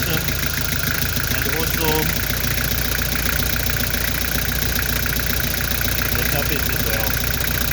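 A Nissan TD27 diesel engine idles roughly with a misfire on cylinder four, giving a loud, continuous, uneven knocking rumble close by, while someone talks over it.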